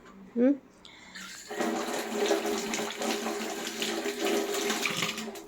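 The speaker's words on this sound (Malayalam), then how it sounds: "നമുക്ക് വേഗം തന്നെ വാഷ് ബേസിനകത്തേക്ക് ഒന്ന് കഴുകിയെടുക്കാം" Water runs steadily from a wash basin tap while a brass nilavilakku oil lamp is rinsed under it, a close, continuous splashing hiss that starts after a brief voice and keeps flowing to the end.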